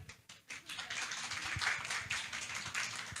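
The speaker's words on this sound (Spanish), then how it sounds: "Un aplauso para Olga, por favor." Audience at a conference on conservation area financing breaks into applause, a dense patter of many hands clapping at moderate distance, swelling after a brief start and continuing steadily.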